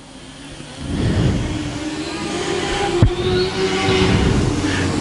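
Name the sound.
Mod Lite race cars racing around speedway track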